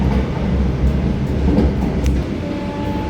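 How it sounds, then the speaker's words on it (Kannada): Vande Bharat Express running at full speed between Dharwad and Bengaluru while crossing a river, heard from inside the coach as a loud, continuous low rumble with rhythmic rail clatter and a faint whine. "ಫುಲ್ ಹೈ ಸ್ಪೀಡ್ ಒಳಗೆ ಕ್ರಾಸ್ ಮಾಡತ್ತೀವಿ ನಾವು ರಿವರ್ನ"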